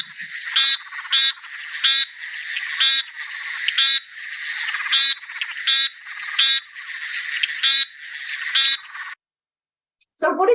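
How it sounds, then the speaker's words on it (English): A frog repeats a short, bright beeping call about twice a second, close and clear against silence, the run of calls ending abruptly. "So what a different sound this frog makes, almost like a beeping sound."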